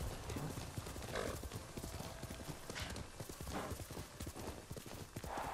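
A horse's hooves clip-clop at a steady trot in the video game Ghost of Tsushima. The rhythmic, fairly soft hoofbeats continue throughout over a light outdoor ambience, with no speech.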